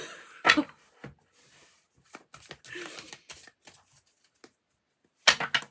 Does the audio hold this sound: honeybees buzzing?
no